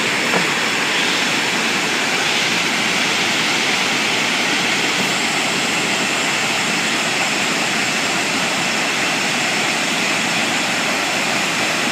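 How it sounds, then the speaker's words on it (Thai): A waterfall rushes with a dense, steady roar that stays loud and unchanging throughout, with no voices or other distinct sounds. "บริเวณน้ำตก"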